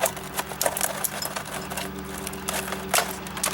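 Tin snips chopping through flag pole packaging, a quick series of sharp irregular clicks and snaps over a faint low hum, close and fairly quiet.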